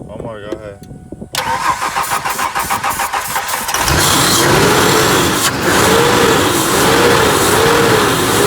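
A Ford F-150 truck turning over after starter fluid goes into the throttle body: a few seconds of steady pulsing cranking, then the engine fires and settles into a loud, continuous run up close. Voices are heard near the start.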